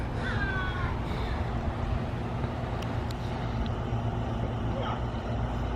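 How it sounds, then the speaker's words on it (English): A bird calls a few times at a zoo on a muddy day, faint chirping over steady traffic-like rumble and background noise. "Sounds like a bird."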